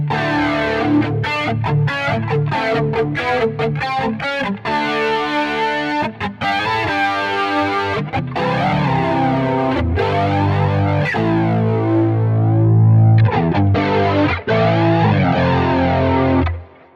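Driven electric guitar through a Quad Cortex flanger, with the drive engaged so it feels like it's working with the amp; sustained chords and notes with a sweeping, swirling comb-like shimmer, loud and continuous, no talking.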